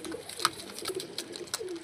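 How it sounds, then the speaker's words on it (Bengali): Caged flying pigeons of Punjabi breeds coo softly in short murmuring calls over a low background, with a few sharper wing or cage clicks scattered through. "পিঞ্জরাটা আমি খুলছি না কারণ উড়া কবুতর আছে, সবই উড়া কবুতর"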